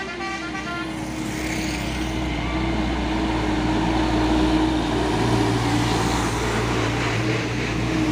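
A truck's musical telolet horn sounds over loud roadway noise on a hill climb, with tonal horn notes early on and a steady engine drone throughout.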